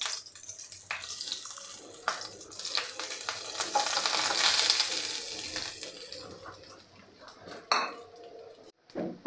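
Fresh grated coconut sautés in hot ghee over a medium flame, a steady close-up sizzle with spoon scrapes and stirring clatter that thins out near the end.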